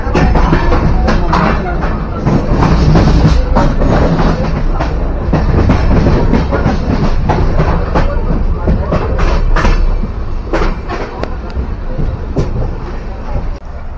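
A long-distance express train from Mumbai LTT to Chengannur runs just after leaving Panvel station: a loud, continuous rumble with rhythmic clickety-clack wheel beats over rail joints, and muffled voices in the carriage underneath.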